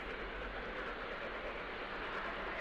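Continuous rumbling rail noise from an H0-scale Roco BR 44 model steam locomotive hauling a very long train of 20 wagons, a steady broadband roll with no distinct beats, holding even throughout.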